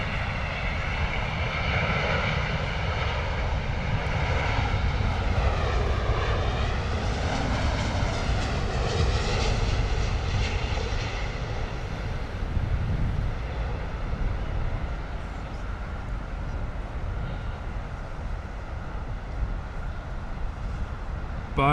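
A Virgin airliner lands at London Heathrow Airport, its engines roaring loud and steady throughout with a rising and falling whine as it passes close by, with no talking.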